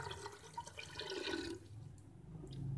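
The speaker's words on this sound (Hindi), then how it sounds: "पानी डाल देंगे इसमें" Water is poured into a pressure cooker holding beef pieces, spices and garlic for yakhni, a short soft splashing trickle that fades quickly in a quiet kitchen.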